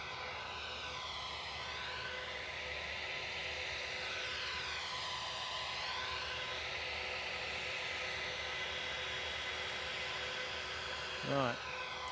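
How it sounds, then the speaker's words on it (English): Ryanair Boeing 737 Max 8-200 arriving from Berlin at Edinburgh Airport, a steady broadband jet engine roar with a slowly shifting whine holding loud and continuous throughout, with a brief rising chirp near the end. "we've got a Ryanair Max 8 200 in from Berlin"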